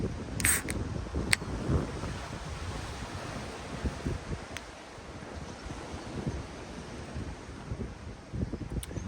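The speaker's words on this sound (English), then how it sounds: "There's a little bit of wind on the coast" Wind buffets the microphone in a steady outdoor rumble on a beach by the coast, with faint rustling, a few sharp clicks standing out briefly; no one speaks.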